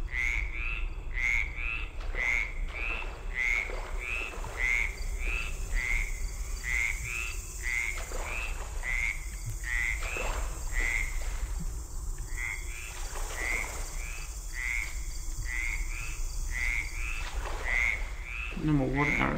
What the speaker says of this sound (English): More frogs?